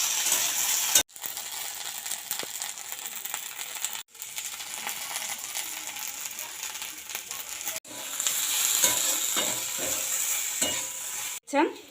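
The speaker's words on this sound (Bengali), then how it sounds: "এরপর ঢেঁড়সগুলো ভাজা ভাজা হয়ে এসছে" Okra frying in a pan, seasoned with turmeric and salt, sizzles steadily and is stirred with scraping strokes, with brief pauses between bursts, close and fairly loud, with no talking.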